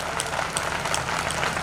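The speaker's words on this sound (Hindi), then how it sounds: "हम ताली बजाकर उस परमेश्वर की महिमा करें।" A church congregation in India claps together in praise at a centennial service, a loud, fast run of many overlapping hand claps with no break and no voice above it.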